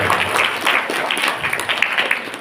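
An audience at a Ramadan closing event applauds in a brief burst of dense clapping from a crowd indoors, fairly loud and continuous.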